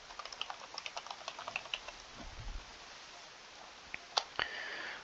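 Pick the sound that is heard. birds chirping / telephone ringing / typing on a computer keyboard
typing on a computer keyboard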